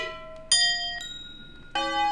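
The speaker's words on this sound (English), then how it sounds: "that's a nice bell sound" A built-in bell sound effect in a building game's scripting tool rings three times, each a bright chime with ringing overtones that decay slowly, struck at roughly even intervals and heard alone.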